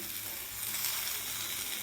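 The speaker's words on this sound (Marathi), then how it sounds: "आता या तव्यामध्ये आपल्याला कांदा भाजून घ्यायचा आहे" Sliced onion roasting on a hot griddle, giving a steady, close sizzle with a fine crackle that holds evenly throughout, with no talking.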